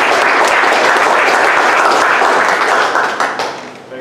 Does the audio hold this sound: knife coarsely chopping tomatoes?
no